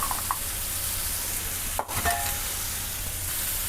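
Chopped capsicum and corn fry in a pan for creamy pasta, a steady broadband sizzle throughout with a brief stirring scrape near the middle, close and alone without talk.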